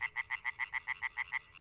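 Tree frogs calling from a pond in Diepenbeek, Limburg: a fast, even series of about ten bright croaks, close and clear over quiet background.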